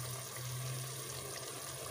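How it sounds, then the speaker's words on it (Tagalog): Water pouring into a cooking pot of Filipino adobo, a continuous soft splashing rush with a low steady undertone, fairly faint and unaccompanied by talk. "Lagyan natin ng kaunting tubig."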